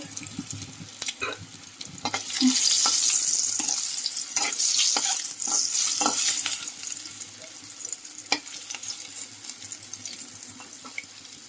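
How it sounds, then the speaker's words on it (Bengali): A boiled egg fries in oil for an egg and potato curry. Scattered clinks and taps lead into a louder sizzling burst for a few seconds, which then fades back to quieter frying with occasional knocks. "ডিমটাকে ভেজে নেব।"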